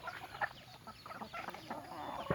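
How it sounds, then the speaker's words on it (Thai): Jungle fowl on a rice field farm with a banana grove, heard on a rainy day as scattered clucks and short calls, some near and some farther off, over a steady outdoor background. "ก็มีไก่ป่านะครับ"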